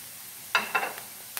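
Cabbage and capsicum frying in a pan, a couple of short sizzling bursts near the mic followed by a faint brief hiss, with quiet gaps between.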